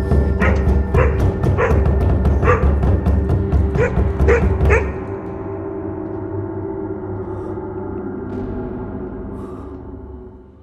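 A dog barks repeatedly in quick, loud yaps for about five seconds, then stops, leaving a low steady background hum.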